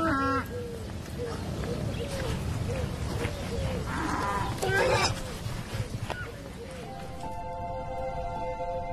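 Cows and fighting bulls low repeatedly in an open pasture under holm oaks that they share with pigs. The drawn-out calls overlap one another, nearby and distant, over a steady outdoor background.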